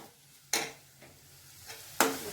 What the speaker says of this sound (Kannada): ನಾವು ತಗೊಂಡಂಥ ಕ್ಯಾಪ್ಸಿಕಮ್ಗೆ ಒಂದು ಸ್ವಲ್ಪ ಎಣ್ಣೆಯನ್ನು ಹಾಕ್ಕೊಂಡು ಹುರ್ಕೋಬೇಕು ಇದನ್ನು